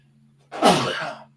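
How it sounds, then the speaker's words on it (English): A single sharp sneeze bursts out close by, loud and breathy, over a faint steady hum, then fades quickly. "I sneezed."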